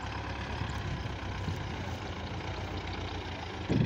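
A tractor stuck in a farm field keeps its engine running in a steady, close, low rumble, with a brief louder surge at the very end.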